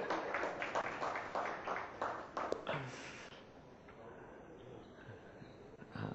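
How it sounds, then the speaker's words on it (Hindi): A live audience at the Agenda Aaj Tak 2017 comedy show claps in a dense burst of applause that gradually thins out, with voices mixed in. "ताली बजा सकते हैं।"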